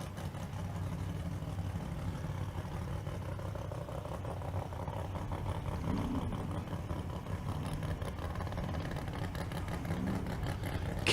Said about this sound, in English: I hear race cars.